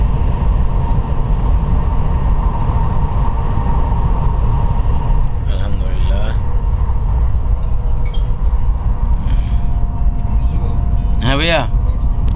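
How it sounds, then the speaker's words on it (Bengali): Bullet train running from Guangzhou to Shenzhen through a long tunnel, heard from inside as a loud, steady low rumble and roar throughout, with voices talking over it. "এটা অনেক লম্বা টানেল, অনেক বড়। কারণ এই বুলেট ট্রেনের যে গতিবিধি, মিনিটে 5 কিলোমিটার যায়।"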